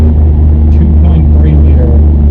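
The 2.3-liter four-cylinder engine of a 2021 Ford Bronco at full throttle gives a loud, steady low rumble from inside the cabin with little change in pitch.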